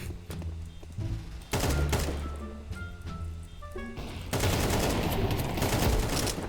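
Rapid gunfire rattles out in bursts during a tactical shooter match, with dense automatic volleys and single shots, sharp and loud, mixed with game effects and brief chatter between players.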